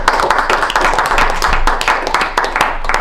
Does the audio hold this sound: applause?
yes